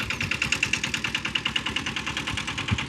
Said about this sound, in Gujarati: કમલેશજી પણ ટ્રેક્ટર સરખું કરે છે।